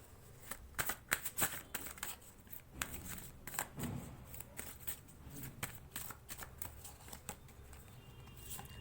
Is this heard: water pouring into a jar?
no